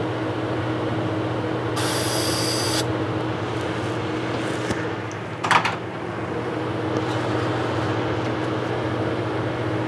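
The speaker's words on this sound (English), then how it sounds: "I just use compressed air to clean out the tips" Compressed air blasts out of paint spray gun tips in a single hiss lasting about a second, with a shorter puff a few seconds later, over a steady low workshop hum.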